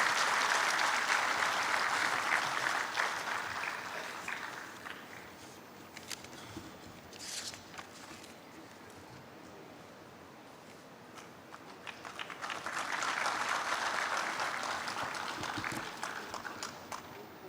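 An audience at an alumni meet award felicitation breaks into loud applause, which fades to scattered clapping midway and then swells again into a full round.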